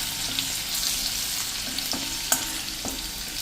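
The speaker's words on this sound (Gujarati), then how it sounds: "અને આપણે જે આ લસણ એકદમ બારીક સમાર્યું છે એ નાખી દેશું. 6 થી 7 કળી લસણ છે અને આ રીતે આપણે તેલમાં જ કૂક કરી લેશું." Six or seven cloves of finely chopped garlic fry in oil for a ridge gourd and chana dal curry, a steady close sizzle with occasional spoon taps and scrapes in the pan; no talk.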